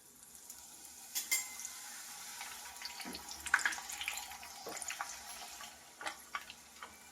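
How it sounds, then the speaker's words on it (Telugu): Sweet puris frying in ghee in a home kitchen, a low steady bubbling sizzle with scattered stirring and scraping clinks, fairly quiet and close with no talk. "నేతిలో ఇలా వేయించుకుని పక్కన పెట్టుకోవాలండి"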